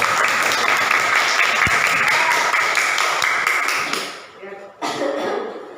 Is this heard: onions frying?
no